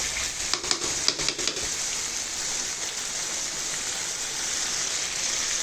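Spice masala being sautéed in a pan for a dish of kochur loti with jackfruit seeds and chepa shutki: a steady close sizzle, with a few sharp stirring clacks near the start and no talking.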